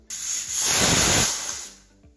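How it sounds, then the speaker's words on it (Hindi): Steam hissing out of a pressure cooker whistle while cooking moong dal with amaranth (chaulai) leaves: one loud, steady broadband hiss that swells, holds for about a second and a half, then fades. "सीटी इसमें निकल गई है"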